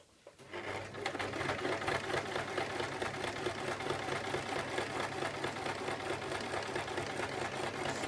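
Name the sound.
sewing machine stitching a circle skirt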